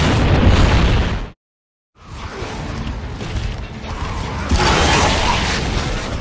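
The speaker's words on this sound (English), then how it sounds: "a modified smoke bomb that knocks people off their feet" Grenade explosions in the Gears of War 2 video game: loud, dense blasts and rumbling bursts fill the clip, broken by a short stretch of silence before the booms return and swell again near the end.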